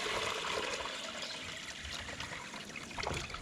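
Water dipped and poured into a container, a continuous splashing trickle at close range with a brief stronger pour toward the end, no voices.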